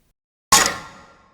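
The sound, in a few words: second percussion sample layer for rock impact sound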